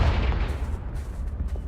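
The Confringo fire-blast spell in Hogwarts Legacy goes off in a deep, booming explosion that hits hard and then rumbles away over a second or so, with no voice over it.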